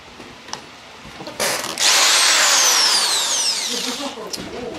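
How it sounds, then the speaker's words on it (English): A power drill grinds down a rivet in a gaming PC case, starting with brief taps, then a loud, steady high whine for several seconds that slowly tapers off, with no talk over it. "So you get a drill and just lightly file it down."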